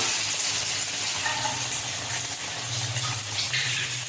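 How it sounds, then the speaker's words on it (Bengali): Maggi noodle snacks made with flour dough being fried in oil over low heat, giving a steady, close hiss and bubbling sizzle that runs unbroken throughout. "এবার আমরা এটাকে শুধু তেলে ছেড়ে দিব।"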